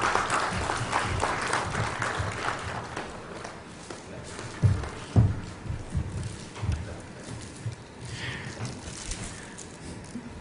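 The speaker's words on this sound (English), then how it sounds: "A round of applause for our guests" An audience at a formal IT policy event in Goa applauds, starting fuller and thinning into scattered claps, with some background murmur.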